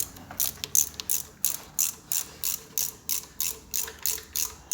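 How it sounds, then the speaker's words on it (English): Small hand ratchet tightening the three screws on the solenoid of an Alfa 147 starter motor, a steady run of about a dozen quick, crisp clicks close by, with no talking. "I'm using small ratchet."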